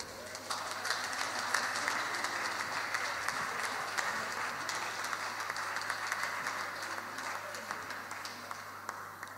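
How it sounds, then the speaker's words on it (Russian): A church congregation at an engagement service applauds steadily, many hands clapping in a dense, sustained wash from start to finish, with a faint low hum beneath. "Давайте проводим их аплодисментами"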